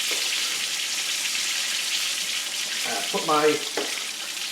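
Chicken frying in a cast iron skillet gives a steady broadband sizzle throughout, with a short burst of speech near the end.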